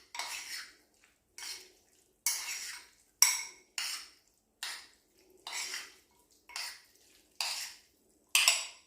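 Salmon and vegetables dressed with olive oil are tossed in a bowl, about ten separate wet, scraping strokes of a utensil at a steady rhythm, close and fairly quiet, with silence between strokes.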